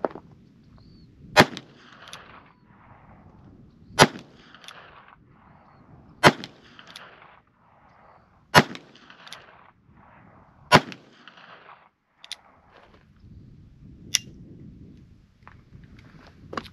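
A Cimarron 1851 Navy cartridge conversion revolver firing .38 cowboy loads: six loud, sharp shots at roughly two-second intervals, each with a short ringing tail, followed by a couple of fainter metallic clicks in a quiet outdoor setting.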